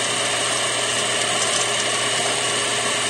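A metal lathe runs steadily as its parting tool cuts a guitar string ferrule for a Gibson Moderne, giving a continuous loud, even mechanical whir and grind with no pauses.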